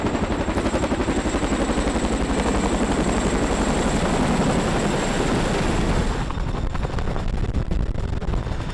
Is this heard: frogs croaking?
no